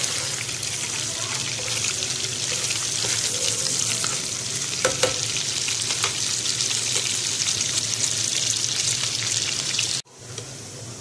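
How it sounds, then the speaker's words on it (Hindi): Garlic browning in hot oil for a dhaba-style makhan tadka dal, stirred in the pan with a steady, close sizzle and scraping that runs continuously, then cuts off abruptly near the end. "और फिर इसका हम तड़का लगा देंगे।"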